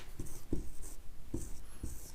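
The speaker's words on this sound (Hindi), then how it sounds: "अब यहां पर हम लिखते हैं" Chalk or marker tapping and scratching on a board in a math classroom, four short, faint strokes at an uneven pace over a quiet room.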